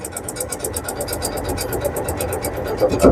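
Engine on repair equipment in poor condition after the key is turned, running in an uneven, rapid sputtering rhythm that stays loud and close throughout, with no talk over it.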